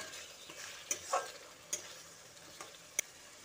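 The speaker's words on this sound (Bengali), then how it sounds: "নুনটা দিয়ে আরও একবার ভালো করে মিশিয়ে নিচ্ছি" Chicken with salt is stirred in a pan over low to medium flame, giving faint, sparse spoon clicks and light scrapes against a quiet, low sizzle.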